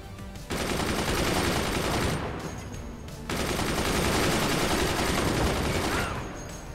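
Rapid continuous weapon fire in the artillery strategy game Forts, a dense sustained roar that cuts out briefly before resuming just as heavily, fairly quiet overall.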